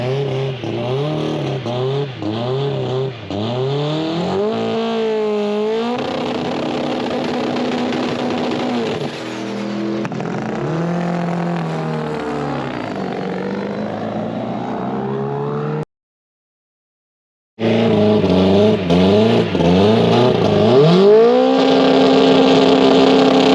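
A Haltech drag car on a test pass, its engine loud and close, climbing in pitch through repeated rapid gear-change sweeps, breaking off to a brief silence, then roaring again at a sustained high rev.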